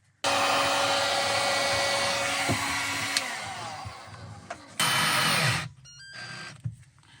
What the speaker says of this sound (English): I'm just gonna heat them up with my heat gun, shrink them